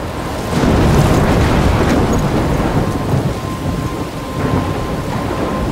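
Thunderstorm with rain in Life is Strange, a loud continuous roar of heavy rainfall with low rumbling thunder swelling early on and persisting throughout.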